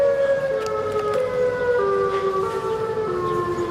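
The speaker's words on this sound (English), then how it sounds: "Why is the siren out here?" A siren wails with a steady rising and falling tone, moderately loud and continuous, over a faint rumbling background with no voices.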